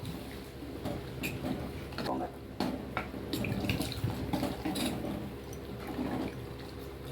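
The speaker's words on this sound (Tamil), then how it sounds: "தண்ணியை ஊற்றி" Water is poured into a brinjal gravy simmering in a pan, a steady splashing, running-water sound heard close up with faint kitchen clatter in the background.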